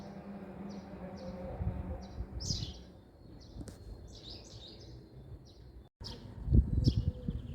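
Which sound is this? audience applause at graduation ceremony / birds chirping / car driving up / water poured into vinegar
birds chirping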